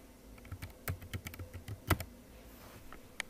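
Keys tapped on a computer keyboard while a search phrase is entered on a freelancing website, giving a quick, uneven run of close, crisp clicks with brief pauses and one louder stroke near the end.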